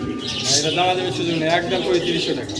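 A pair of large Sirazi pigeons, one male and one female, give soft cooing calls close by while someone talks over them.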